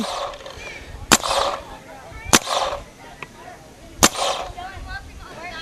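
Three sharp, snappy pops from a Dangerous Power Rev I paintball gun firing at spaced intervals, each followed by a short whoosh, with a fainter click in between and no one talking.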